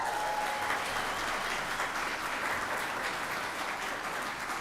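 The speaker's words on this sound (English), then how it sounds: "A big round of applause for Leslie Balser, who has been a critical member." Sustained audience applause at a graduation ceremony, a dense, even wash of many hands clapping at steady loudness throughout, with no voices rising above it.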